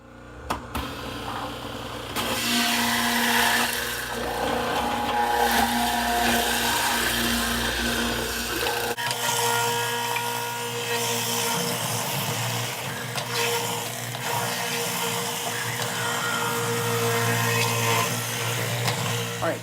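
Ginger root pieces being juiced in a Champion juicer, a steady loud motor whine with grinding that starts after a short quiet moment and continues without letup, changing pitch partway through as the pieces feed in.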